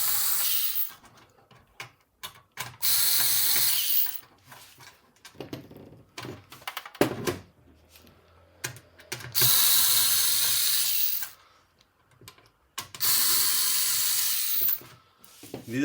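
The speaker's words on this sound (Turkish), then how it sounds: "Öncelikle bu vidalarımızı açıyoruz." A ratcheting screwdriver backs out the top cover screws of a DVR recorder, two on each side. Several long, close, steady ratchet runs alternate with short pauses and small handling clicks.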